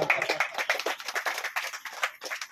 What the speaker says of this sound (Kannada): ಜೋರಾದ ಚಪ್ಪಾಳೆ ಮುಖಾಂತರ